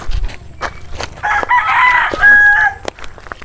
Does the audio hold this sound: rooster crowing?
yes